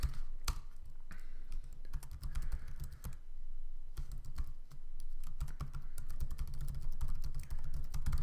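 Computer keyboard typing in a site name in a WordPress security plugin, bursts of close, crisp key clicks with brief pauses between runs, no voice.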